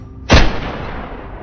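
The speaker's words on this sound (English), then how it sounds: "The shot echoed through the forest." A single loud gunshot rings out in a forest during a wild boar hunt, a sharp close blast followed by a long rolling echo fading through the trees.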